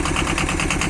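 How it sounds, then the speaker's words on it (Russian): Rear-wheel-drive universal farm tractor engine running smoothly and steadily, a continuous close mechanical drone with even rhythmic pulsing and no voices. "максимально мягко работает мотор, максимально спокойно"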